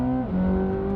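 A 1064-horsepower Chevrolet C8 Corvette ZR1 engine holds a steady high-pitched tone, then drops to a lower note, loud and close, from an engine and exhaust with a strong droning whine.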